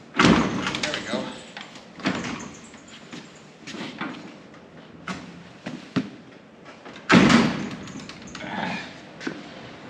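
A barn door being closed on a windy farm, heavy wooden thuds and rattles near the start and again later, with bursts of wind noise and a person talking in between.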